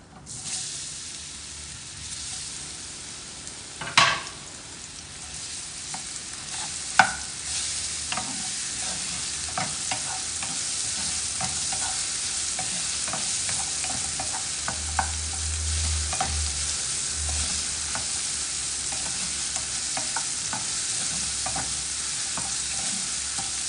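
Chopped nendran banana frying in a non-stick pan, stirred now and then, giving a steady close sizzle with a few loud scraping knocks early on and a low rumble partway through.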